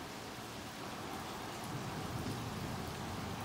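Heavy rain pours steadily during a storm in Dallas, a dense, even wash of drops that stays loud and unbroken throughout, with no voices over it.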